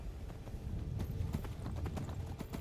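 Horse hooves clip-clop in a steady, fairly quiet rhythm as the horse moves at an even pace through the Skyrim video game world, with no speech.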